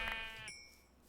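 A sheep in Minecraft FTB Continuum gives a single short, wavering bleat, clear but faint, followed by a brief high tone and then quiet, with no talk.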